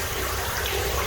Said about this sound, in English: Water's pumping over, and I know it's still pumping because this thing was full